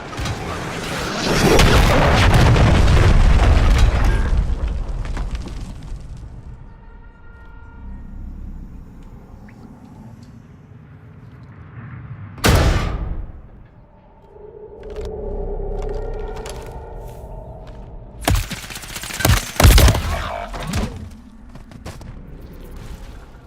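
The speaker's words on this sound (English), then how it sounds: "Hostiles launched a cruise missile." Cruise missile explosions in the video game Call of Duty: a loud, deep rumbling blast opens, then fades, followed later by a sharp bang and a cluster of heavy booms.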